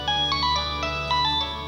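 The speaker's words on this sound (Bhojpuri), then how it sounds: "मम्मी फोन बज रहल बा।" A mobile phone ringtone plays a bright, repeating electronic melody of short tonal notes over a low steady hum, moderately loud and with no voices.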